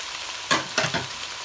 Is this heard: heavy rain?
no